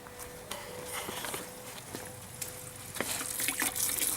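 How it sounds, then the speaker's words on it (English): Diesel fuel trickles and splashes from a disconnected common rail TDI fuel line being flushed, a faint steady liquid flow with small clicks and knocks, no talk. "Got clean diesel coming out of here."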